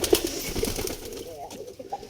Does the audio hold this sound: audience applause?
no